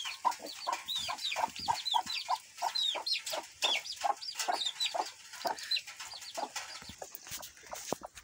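A brooding hen sitting on seven eggs clucks steadily in a soft, repeated rhythm, close by and alone with no voices.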